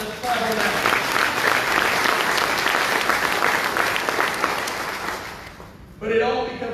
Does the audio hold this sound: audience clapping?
yes